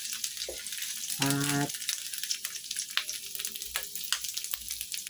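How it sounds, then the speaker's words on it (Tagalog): Garlic sizzling in hot oil in a pan, a steady frying hiss with scattered crackles and a brief loud burst of voice-like tones partway through, with faint talk at moments. "Gigisa na tayo ng ating bawang"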